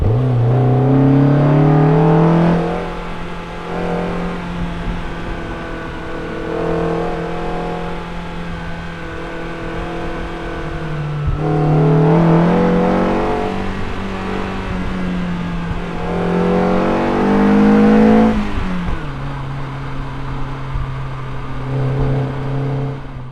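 A BMW E30 M3 engine revs up and down repeatedly, climbing to high pitch around 7,000 rpm and dropping back, loud and close, with no one speaking.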